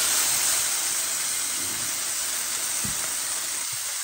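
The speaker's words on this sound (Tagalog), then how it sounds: "na-fry ko muna yung beef kasi parang tanggalin ko yung taba" Minced beef fries in a pan with a steady, loud sizzle and hiss, with occasional faint scraping from stirring.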